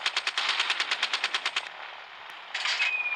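Minigun in the video game Gunship Battle firing a rapid burst of about a dozen sharp shots, then a short lull before another burst starts, moderately loud.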